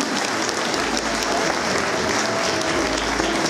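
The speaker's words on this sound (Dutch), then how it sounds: "Een geweldig applaus voor de rest" Audience at a dog show sighthound group judging gives loud, sustained applause, a dense continuous roar of clapping close by.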